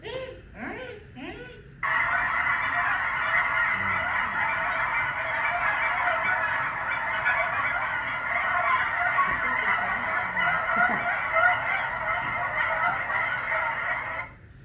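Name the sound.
geese honking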